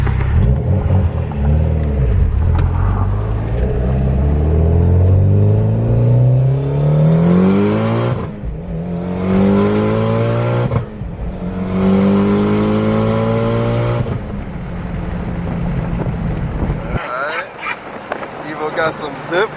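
A Subaru WRX engine revs hard and accelerates through several gears, with repeated rising pitch sweeps and brief drops at each shift. It is loud and close, with wind rush, and ends in a quieter idle.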